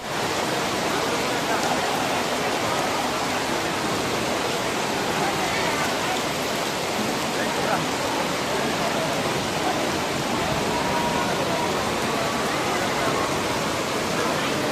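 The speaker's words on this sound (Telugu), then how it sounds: "చూడండి చాలా ఘోరంగా పడుతుంది వర్షం." Heavy rain pours down steadily in Tirupati, a dense, loud, unbroken hiss of downpour that fills the whole stretch without pause.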